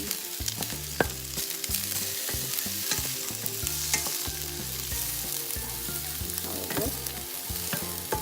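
Small potato cubes fry in a pan with a continuous crackling sizzle, while a utensil scrapes and stirs them in frequent uneven strokes, close and fairly loud.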